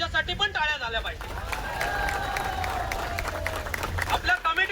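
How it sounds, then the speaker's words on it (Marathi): Crowd applause and cheering from a Govinda human-pyramid practice gathering in Thane, a dense wash of clapping with voices and a shouted call over it, steady and loud throughout. "त्यांच्यासाठी पण टाळ्या झाल्या पाहिजे."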